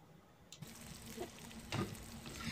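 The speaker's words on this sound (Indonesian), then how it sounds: "kayak gini aku tumis aku sebentar aja, kemudian aku balik, terus aku angkat ya teman-teman." Broccoli is stir-fried in a pan, giving a soft, continuous sizzle with a few brief scraping and tossing bursts, heard close and quiet without voices.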